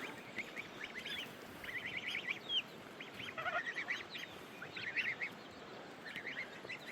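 Farm poultry, chickens and a duck, keep up repeated honking and clucking calls in irregular bursts, fairly faint and somewhat distant, over a low steady outdoor background.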